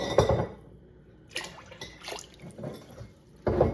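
Water pours and splashes into a pot in a farm kitchen while peach canning syrup is made, in short bursts of splashing and trickling separated by brief pauses, close and moderately loud, with no talk.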